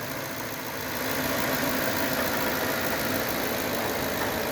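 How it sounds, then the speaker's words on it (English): A 2013 Ford F-150 pickup engine idles steadily up close, a smooth continuous mechanical hum with no voices over it. "with the motor running"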